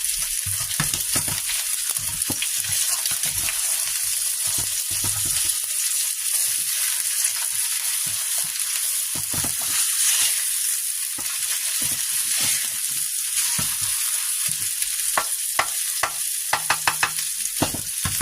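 French toast made with thin bread sizzles and fries steadily in a pan, a continuous close crackle with occasional stirring and scraping, no talking over it.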